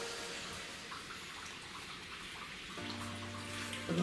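Dry ice in water makes steady bubbling and gurgling, a continuous wet churning like boiling, with a low hum joining partway through; no voices.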